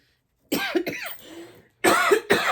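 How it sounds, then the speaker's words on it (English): Several harsh coughs come in two bursts, close and loud, separated by a brief quiet pause. "I'm coughing, guys, but these allergies are kicking my"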